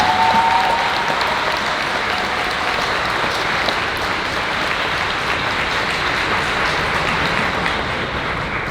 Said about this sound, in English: Therefore, I would like to ask a warm applause and call Sanna and her family on stage.